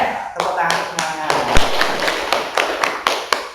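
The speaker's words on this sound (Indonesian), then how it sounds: "Tepuk tangan semuanya." Seventh-grade students in a classroom clap their hands together in sharp, evenly spaced beats, roughly a dozen crisp claps over a few seconds, with voices talking underneath.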